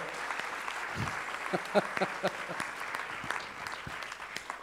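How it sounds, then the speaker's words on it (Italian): Crowd applauding the Sir Safety Conad Perugia volleyball team at their 2017/2018 season awards, moderate clapping with a few sharper claps mixed in and voices talking nearby. "un bel applauso a Perugia"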